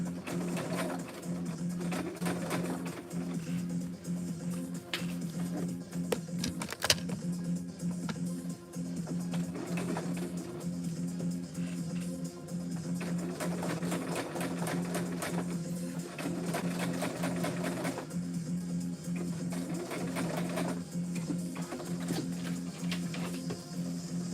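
A sewing machine runs almost continuously through a bag pattern, its steady mechanical hum and rapid needle clatter holding at moderate volume with brief variations in speed.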